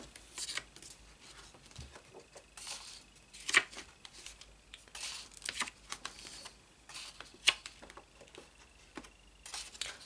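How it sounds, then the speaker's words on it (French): Pages of a Formula 1 car collection booklet flip and rustle, soft papery swishes and light taps at uneven intervals, close and quiet. "on va commencer tout de suite par feuilleter ensemble le fascicule numéro 8"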